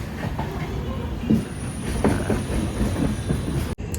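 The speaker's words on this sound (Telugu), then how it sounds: "బళ్ళారి నుంచి అయితే ట్రైన్ స్టార్ట్ అయిపోయింది" The Secunderabad to Vasco da Gama express, just departed from Ballari, rumbles continuously with rhythmic wheel clatter on the tracks, loud and close, with a brief sharp drop near the end.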